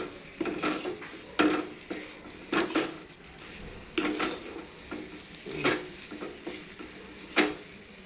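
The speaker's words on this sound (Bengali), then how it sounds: "এখন একটু নাড়াচাড়া দিয়ে বাটাটাকে নামিয়ে দেবো।" Spoon scraping and stirring sesame paste in a pan, sounding as repeated close clatters and scrapes at an uneven rhythm over a soft background sizzle.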